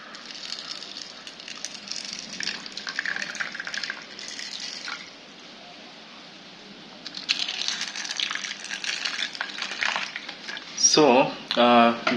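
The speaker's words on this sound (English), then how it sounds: "Let me put water." Water poured over sprouting seeds, a steady broadband pour running for several seconds, pausing briefly, then resuming, with a closer clattering splash near the end.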